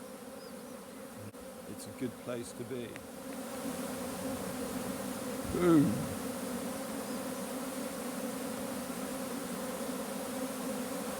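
Honey bees from a swarm fan their wings and buzz on a person's hand, a steady close-up hum that continues throughout, with a brief voice speaking early on.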